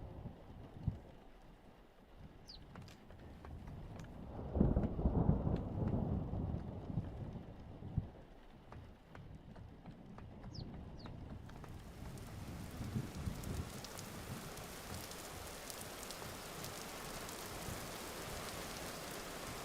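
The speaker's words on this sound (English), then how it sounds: "It's been raining for days without stopping." Rain in the video game Vintage Story, a steady rainfall with wind noise swelling in the middle and a brighter hiss of rain on surfaces later, with no distinct thunder heard.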